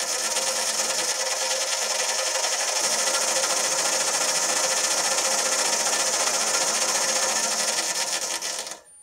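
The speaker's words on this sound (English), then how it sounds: "Now I can turn the lathe on." A wood lathe spins a blank of solid wood, giving a loud, continuous high whir with a grinding, rasping texture that holds steady for about eight seconds and then cuts off abruptly.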